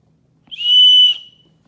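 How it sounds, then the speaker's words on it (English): A cheap survival-kit whistle gives one short, shrill blast lasting about half a second, loud and close against near silence. "Let's see how the whistle sounds, I guess."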